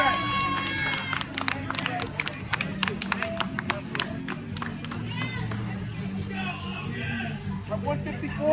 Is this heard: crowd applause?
yes